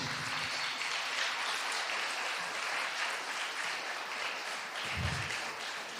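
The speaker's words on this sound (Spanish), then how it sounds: "Si lo crees, dale un aplauso al Señor Jesucristo." A church congregation applauds steadily for several seconds, a dense even wash of clapping with no speech over it.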